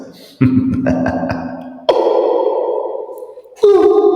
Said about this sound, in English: That's the sound of my basement.